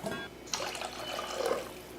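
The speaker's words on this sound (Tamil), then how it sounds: "தண்ணி கொஞ்சம் சேர்த்தாச்சு" Water is poured into a pot of simmering rasam while cooking, producing a short, soft splashing trickle that is close and fairly quiet.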